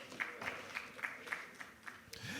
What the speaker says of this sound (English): Shall we welcome him with a round of applause?